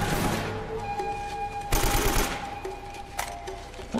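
Gunfire in the video game Uncharted: Drake's Fortune Remastered, with rapid shots aimed at windows during a waterworks level, loud bursts of automatic fire over a constant droning game soundtrack.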